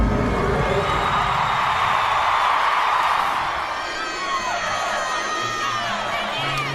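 Cheering crowd at an SEC college gymnastics dual meet, Auburn versus LSU, a loud sustained roar with whoops and shouts that eases slightly partway through while staying dense and continuous.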